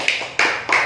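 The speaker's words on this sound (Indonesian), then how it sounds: "tepuk tangan untuk kelompok 2" Three sharp, loud hand claps from a classroom applauding a student group, evenly spaced and close by, with no talking over them.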